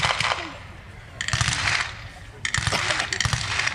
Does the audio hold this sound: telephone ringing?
no